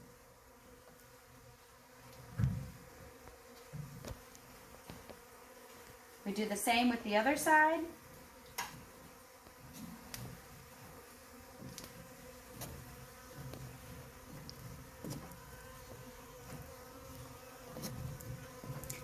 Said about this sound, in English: we'll let the bees clean up as much of the honey as they can from the wax